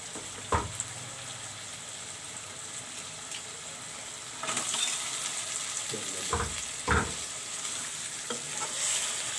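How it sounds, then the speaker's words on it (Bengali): Bata fish frying in a cooked-down spice paste in a pan, a steady sizzle that swells louder midway, with a few sharp clanks of a utensil against the pan; no one speaks. "মশলাটা কষানো হয়ে গেছে এখন আমি এখানে বাটা মাছগুলো দিয়ে দেবো"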